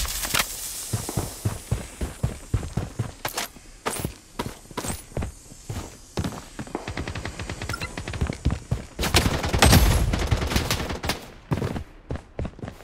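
Gunfire in the shooter video game Blood Strike, with rapid bursts and single cracks of shots overlapping and fairly loud, and a denser cluster of fire toward the end.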